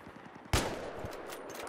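Gunfire in the Battlefield 3 video game during sniping on the Caspian Border map: one sharp, loud shot bursts out, followed by a rattling tail of fainter rapid fire.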